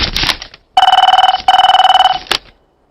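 A telephone rings loudly in two long trilling bursts, with shorter electronic beeps before and after, then falls silent.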